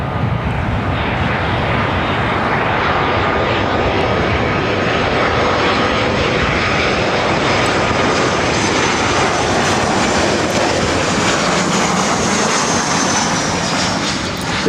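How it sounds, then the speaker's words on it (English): A Southwest Airlines Boeing 737-700 arriving at LAX from Sacramento makes a loud, continuous jet engine roar that holds steady and close throughout with no voices. "This is Southwest Airlines 3793 coming in from Sacramento on a 737-700."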